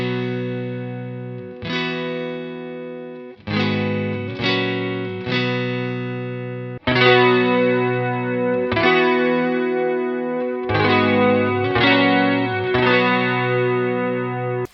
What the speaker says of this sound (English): Okay, so we're gonna add chorus.